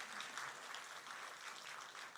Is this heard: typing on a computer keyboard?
no